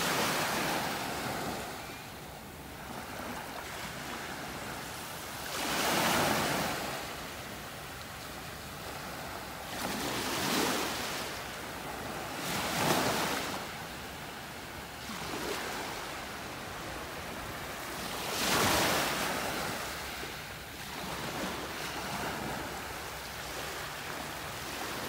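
Ocean waves break on a beach in North Naples, Florida, a continuous roar of surf with several louder crashes arriving every few seconds under steady wind noise.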